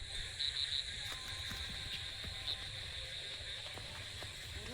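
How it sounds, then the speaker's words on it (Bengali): Crickets chirp steadily in the night during the rainy season, a continuous high shrill with soft rhythmic pulses. Frogs croak faintly in the background of the open field. No one speaks. "ঝিঝি পোকাগুলো নিজেদের ছন্দে ডেকে যাচ্ছে"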